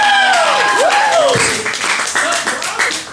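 A comedy club crowd at McCormack's Irish pub cheers and claps loudly through most of the moment, a dense wash of applause with whoops, while a voice speaks over it.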